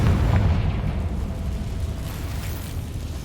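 A Confringo fire spell blasts in the video game Hogwarts Legacy, giving a heavy, rumbling explosion that starts loud and slowly fades into a long low roar.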